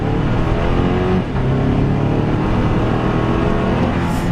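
A 2025 Toyota 4Runner accelerates on the road, its engine a loud, continuous drone heard from inside the cabin that briefly dips near the middle and then pulls on steadily.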